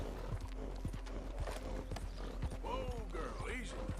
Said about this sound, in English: I'm trying to feed the horse.